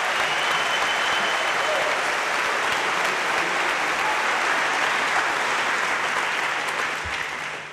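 A Los Angeles audience in 2006 gives Professor Howard Zinn a warm welcome with loud, sustained applause from a large crowd, clapping steadily for several seconds before tapering slightly at the end.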